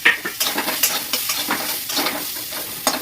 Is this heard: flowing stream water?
no